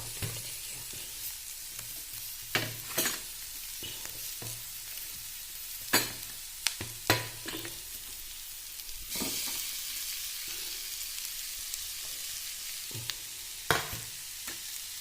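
Ground jackfruit seeds and onion fry in a pan for upma, a steady sizzle broken by intermittent scraping stirring strokes and occasional sharp knocks, with no speech.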